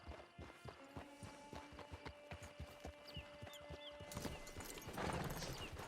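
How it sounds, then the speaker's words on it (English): Horse hooves clip-clop in a steady rhythm in Red Dead Redemption 2, with a neigh near the middle and busier clatter building toward the end; no talk over it. "Get your horse."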